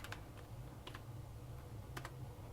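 Keys tapped on a computer keyboard in short separated bursts, a few quick clicks at a time with pauses between, quiet and close, with no voices.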